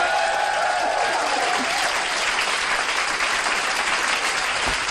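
A large comedy-show crowd claps loudly and continuously, a thick wash of applause from many hands close by, holding at an even level throughout without pause or words.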